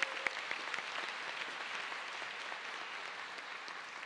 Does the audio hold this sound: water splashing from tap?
no